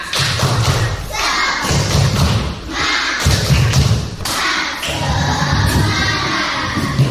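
A class of schoolchildren claps a rhythmic spirit cheer in a morning classroom, with heavy repeated thumping beats in short bursts and young voices shouting along loudly throughout.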